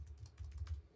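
Several quick keystrokes on a computer keyboard, soft and close, tapping in a brief irregular burst with no other sound.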